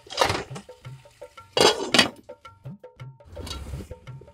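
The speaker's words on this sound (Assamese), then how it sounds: "এনেকৈ ভালকৈ লৰাই ঢাকনখন মাৰি আকৌ কিছু সময় থৈ দিম।" A metal spoon clinks and scrapes against a pot in short bursts while ash gourd and tomato curry is stirred, followed by the clatter of a lid set on top. The sounds are close and intermittent, with quiet gaps between them.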